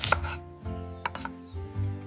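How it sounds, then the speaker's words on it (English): A knife chops cabbage in a series of close, crisp cuts against a board, set over a sustained tonal hum in the background. "I am chopping cabbage."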